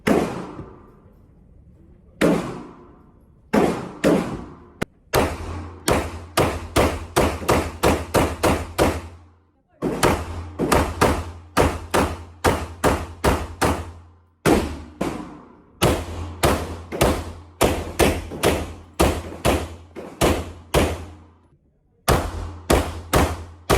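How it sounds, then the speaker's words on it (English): Rapid strings of pistol shots from Glock 17 and Glock 34 handguns fitted with Mass Driver compensators at a shooting range, loud, sharp reports fired in quick bursts separated by short pauses, with no talking. "I'm going to roll in the footage of shooting at the range"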